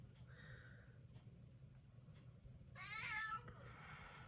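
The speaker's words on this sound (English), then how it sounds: "My cat is now meowing because she hears me talking" A pet cat meows a few times, faint early calls and then a louder drawn-out meow near the end over a low background hum.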